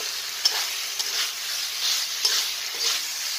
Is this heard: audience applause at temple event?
no